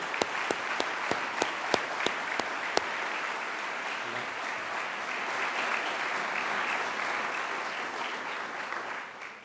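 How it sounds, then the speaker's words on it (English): An audience applauds a pair of generous college supporters at a university speaker-series forum, a dense steady wash of many clapping hands held for the whole stretch, with a few sharp nearby claps standing out early on. "Tom and Betty, would you stand, please, so we can applaud you?"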